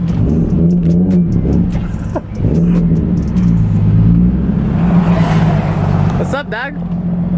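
Revving engine of an Audi R8 fitted with a Valvetronic exhaust, a steady loud drone held under overlapping outdoor chatter, with a short dip near the middle and a sharper rev toward the end.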